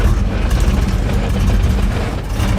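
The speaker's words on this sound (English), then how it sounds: "So that's all the idle that I'm getting. It's idling it like" Cammed, Whipple-supercharged Terminator car engine idling, a loud, lumpy low-pitched rumble with an uneven choppy pulse, close and steady, no talk.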